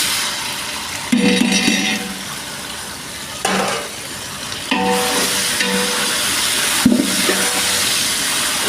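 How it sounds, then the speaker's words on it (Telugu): Chopped onions fry and sizzle in a pan, browned and stirred, then a dollop of ready-made ginger paste goes in and a fresh burst of sizzling follows. Steady hiss with sharp stir-scrape bursts throughout. "ఇగో చూడండి, ఉల్లిపాయలు ఎర్రగా ఏగినాయి"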